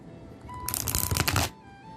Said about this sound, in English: They do a good shuffle.